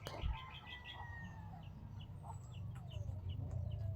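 Chickens cluck and birds call intermittently outdoors, with a few high chirps and whistles over a low background rumble.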